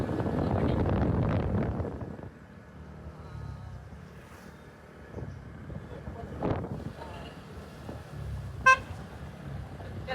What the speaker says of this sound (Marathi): सो गाईज आता आपण गाडी चालवतोय